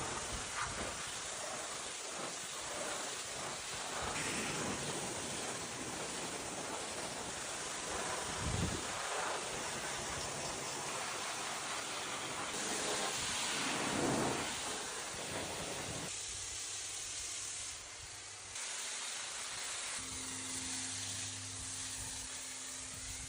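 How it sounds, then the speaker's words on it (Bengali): A dirty car's engine bay is rinsed with a pressure water spray, giving a steady loud hiss and spatter that surges and shifts as the jet moves, with a brief drop near the end. "এখন স্পিড পানি দিয়ে ইঞ্জিন ধোয়ার পালা"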